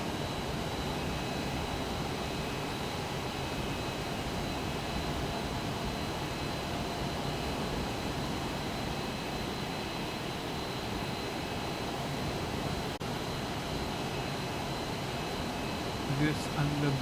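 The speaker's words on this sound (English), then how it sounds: "the big plane Airbus and all that get a bit loud" Airbus airliner engines in Microsoft Flight Simulator 2024, a steady, sustained roar and hum with a faint high whine running throughout, unchanging in level.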